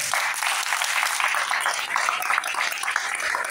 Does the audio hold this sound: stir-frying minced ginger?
no